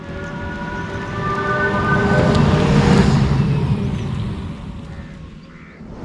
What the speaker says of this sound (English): what you have here is a fake sound coming in. So if the car is moving, pedestrians will know something is approaching them.